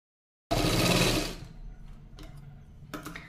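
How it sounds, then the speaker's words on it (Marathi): An electric sewing machine stitches a straight seam along a blouse's hook-and-eye strip in one loud, close, continuous burst that stops after about a second, leaving faint ticks and handling noises. "इथे आपल्याला सरळ टिप मारून घ्यायची आहे."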